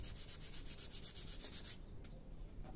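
Sandpaper rubs back and forth on wood in quick, even strokes, then stops; a short scrape follows. Faint and close.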